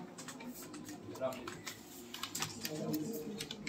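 Computer keyboards clatter in a typing class as learners practise exercises, a faint, irregular stream of quick key clicks running under a voice talking nearby.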